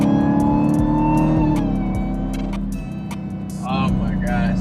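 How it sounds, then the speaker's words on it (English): A 2020 Dodge Charger Hellcat Widebody engine drones and revs with a whirring supercharger whine while driving in pouring rain, pitch rising and falling, while someone talks over it near the end. "supercharger sounds so crazy"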